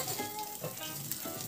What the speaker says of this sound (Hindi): मसाले को भून लीजिएगा।